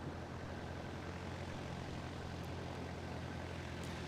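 A small certified propeller airplane lifts off a dirt strip at an air show STOL exhibition, its engine a steady distant broadband drone heard alone without any voices.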